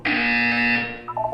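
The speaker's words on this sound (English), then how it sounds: "You will hear a buzzer." A loud electronic buzzer sounds in the Portal 2 test chamber, one steady harsh tone held for most of a second before fading. A few short beeps follow.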